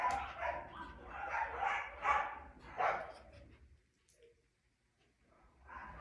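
A 16-week-old English Teddy Bear Goldendoodle puppy and other dogs bark and yip indoors in a cluster of quick, moderately loud barks, then fall quiet before another short burst.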